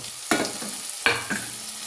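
Jackfruit chili frying in a pan just after tomato goes in, with a steady soft sizzle broken by two sharp stirring scrapes near the start and middle; no voices.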